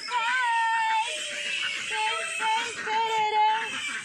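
Piglets at a small provincial farm squeal and whimper at feeding time, a steady high-pitched, wavering cry with overlapping voices that runs close and loud through the whole stretch.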